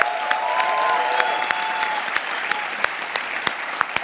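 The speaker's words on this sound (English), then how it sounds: "please give yourself a round of applause because you all deserve it" Loud, sustained applause from the audience at a world championship finals for student competitors, a full crowd clapping evenly with a few sharp nearby claps and a faint tonal hum underneath.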